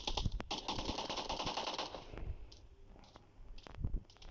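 Bursts of rapid gunfire from a weapon in the mobile battle royale game PUBG New State, a dense rattling volley at first, then scattered sharp single shots and clicks further back, no talking.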